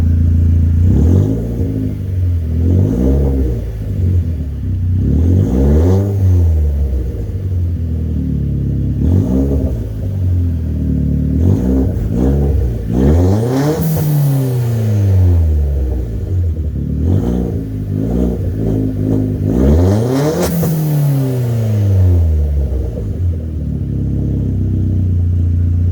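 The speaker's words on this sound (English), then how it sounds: "let you guys hear the blow off valve" Turbocharged 2014 Chevrolet Cruze with a full ZZP build running E85, revved repeatedly in a loud rumbling series of rising and falling sweeps, each rev ending in a sharp hissing blow off valve release, no talk.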